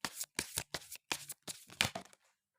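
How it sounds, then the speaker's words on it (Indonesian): Playing cards being shuffled up close: a run of crisp, riffling bursts in a quick uneven rhythm, each a short papery flutter, stopping after about two seconds into silence. "Oke, kita akan kocok lagi."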